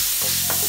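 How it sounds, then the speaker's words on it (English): Vegetables sizzle in melted butter in a hot pan, a loud continuous frying hiss close up, with a brief stirring scrape partway through. "I love that sizzling right there."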